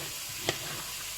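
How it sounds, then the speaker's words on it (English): Peppers and onions sizzle in a hot pan with a steady close hiss and one brief louder crackle, with no voices. "frying veg takes no length of time at all"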